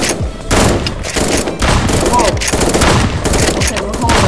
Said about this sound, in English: Someone shooting me from behind. Two people are.